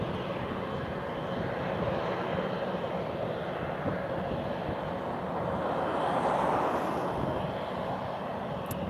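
An Embraer airliner lining up for takeoff at Lisbon Airport, its engines giving a faint, steady distant hum that rises slightly midway.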